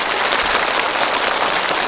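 A studio audience applauding at a televised stunt challenge show, steady dense clapping that holds at an even, fairly loud level from start to finish.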